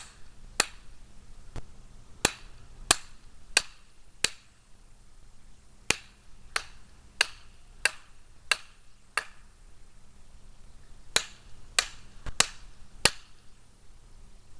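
A hammer repeatedly striking a wooden handle to seat the head, about twenty sharp, crisp knocks in irregular clusters, close and distinct over quiet background.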